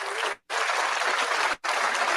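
Dense, continuous hand clapping on a podcast, cut by two brief silent gaps, loud and close with no talk over it.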